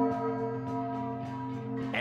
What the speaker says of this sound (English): let's have the chime time